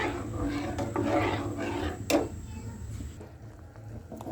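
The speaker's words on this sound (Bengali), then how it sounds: "চাউলের গুঁড়িটা দিয়ে আপনারা অনবরত নাড়তে থাকবেন, নাহলে কিন্তু দলা পেকে যাবে।" Rice flour is stirred continuously in a pot while making a milk-based sweet, giving a soft scraping and rubbing sound up close, with one sharper scrape partway through before it fades quieter.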